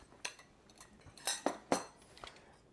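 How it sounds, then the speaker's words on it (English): A spoon scoops sweet pickle relish and taps it into a chickpea salad, giving several quiet, close metallic clinks and scrapes in a short irregular run. "we're going to add just maybe a spoonful in it to get it started"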